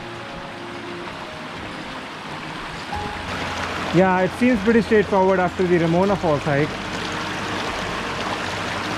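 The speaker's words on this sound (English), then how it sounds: "this is the part where you cross a stream of water" A stream crosses the Eagle Creek trail in Oregon and runs with a steady rushing flow throughout, while a person talks briefly over it midway.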